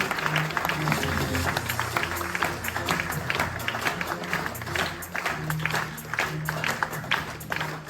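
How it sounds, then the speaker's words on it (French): Audience applause for a hotel director at the Marina Viva 2025 show in Corsica: sustained dense clapping from a crowd over steady low music, lasting throughout without a break. "Je voudrais qu'on applaudisse très fort le directeur de cet hôtel"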